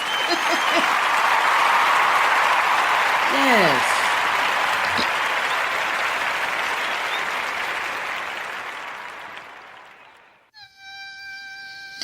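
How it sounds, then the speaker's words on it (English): A round of applause for a guest on a live show, loud dense clapping and crowd noise that swells, then fades out around ten seconds before a brief tonal jingle and a voice. "let's give her a round of applause"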